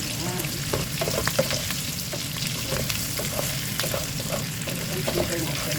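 Brown sugar melts and sizzles in a hot pan, a steady close frying hiss with small crackles and light scraping of stirring throughout.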